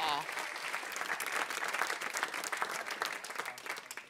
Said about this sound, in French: Mais ça, c'est les applaudissements.